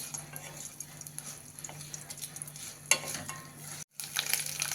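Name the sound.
stir-frying sliced fresh coconut for amti masala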